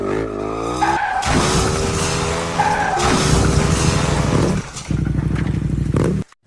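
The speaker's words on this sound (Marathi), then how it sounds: "आज जोरात गाडी पळो, पोरी पुढे हिरो वाटलं पाहिजे आपण." A car is driven fast in bursts, engine revving hard with screeching tire skids and a sharp crash-like clatter near the end, loud and close.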